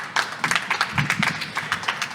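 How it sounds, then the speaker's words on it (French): Studio audience applauding Joey on a French radio talk show set, a few seconds of clapping with distinct claps standing out, moderately loud and close. "On peut l'applaudir bien fort s'il vous plaît, Joey."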